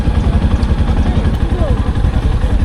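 A motorcycle engine runs steadily on a road near the Rezukhal bridge on the Cox's Bazar Marine Drive, a continuous low rumble that stays loud and close throughout.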